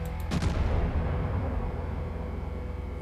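Heavy naval gunfire from a battleship in World of Warships, the Hyūga: one loud, deep boom near the start that rolls out into a long, low rumble. No one speaks.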